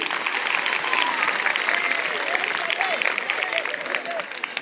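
Applause at a Bhojpuri poetry recital, a full crowd clapping steadily and loudly for several seconds, with a few voices calling out beneath the clapping.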